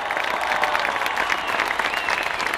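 Crowd in the far stands at a comedy show applauds in a dense, continuous roar of clapping, steady and fairly loud for under three seconds, with some cheering mixed in.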